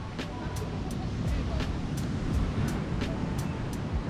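Waves breaking on Flamenco beach on Culebra island, Puerto Rico, a steady roaring wash of surf with wind buffeting the microphone throughout, no talking.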